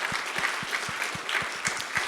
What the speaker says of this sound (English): All right, clap that up.